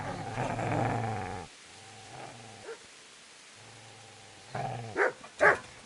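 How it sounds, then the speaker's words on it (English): In the Kingdom Come Deliverance video game, a dog growls low and menacingly for over a second, then gives several short, sharp barks and snarls in bursts separated by pauses, moderately close and with no talk over it. "Get away, you mutt!"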